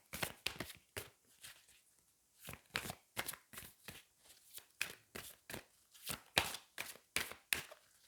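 Angel oracle cards are shuffled by hand in a quiet room, making repeated crisp riffling bursts at an uneven rhythm, each a short papery flutter with brief pauses between. No one speaks.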